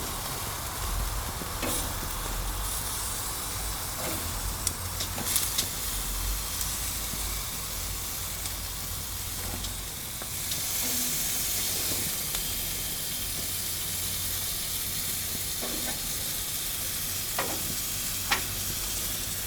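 Boneless chicken thighs sizzling on a Monument Grills Mesa 415BZ gas grill, a steady hissing sear with occasional sharp pops and clicks, louder after a turn midway, no speech.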